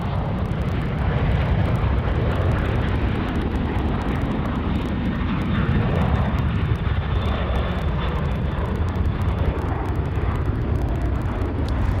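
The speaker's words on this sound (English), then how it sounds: "And now we've got our Velocity aircraft taking off 3-4 right." A Velocity aircraft takes off from a runway at Sydney Airport, a loud continuous jet engine roar with broad rumble, steady throughout at moderate distance, no voices.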